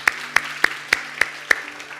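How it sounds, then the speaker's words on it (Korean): A church congregation claps during a Sunday worship service, though here it sounds like one sharp, close clap every third of a second, about six in a row, over a low steady hum, with the last stretch going quiet. "우리 다시 한번 하나님 앞에 감사의 박수 올려드리도록 하겠습니다"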